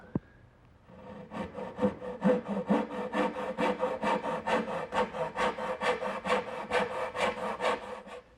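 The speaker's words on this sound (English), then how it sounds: "Now I'll finish cutting out my spinner, making the angled cuts with my little dovetailing saw." A small dovetail saw makes angled cuts in wood, with a steady run of about a dozen rhythmic rasping strokes, close and clear, and no talking.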